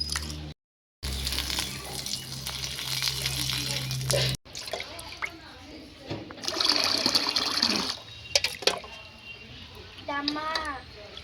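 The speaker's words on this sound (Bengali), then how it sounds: "পরিষ্কার করে কাউন চালটাকে আমি ধুয়ে নিয়েছি।" Foxtail millet rice is washed by hand in water, sloshing and trickling nearby with splashes and pours, while a person talks over it.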